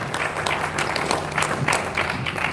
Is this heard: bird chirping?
no